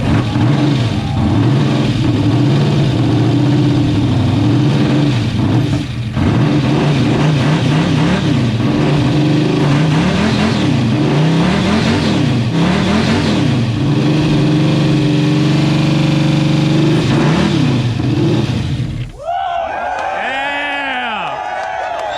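A 10.3-liter supercharged big block engine in a car called Toast, running loud and close with repeated throttle revs rising and falling, then cutting off into excited voices and ringing afterward.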